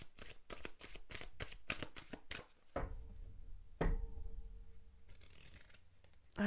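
A deck of oracle cards is shuffled close up, a quick run of crisp riffling slaps followed by a softer sliding shuffle and a single sharper tap, quiet and with no talking.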